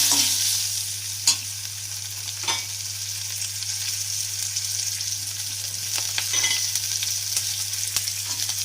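Green chillies fry gently in a pan over a low flame for coriander seed rasam, giving a steady, fairly loud sizzle with a low hum beneath and a few sharp stirring clicks scattered throughout.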